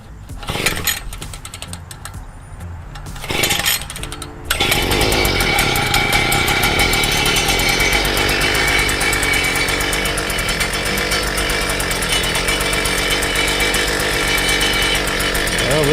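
A Predator 43cc tiller engine runs steadily and loudly after a few sputtering starts, its rough continuous drone with a buzzing vibration filling the clip.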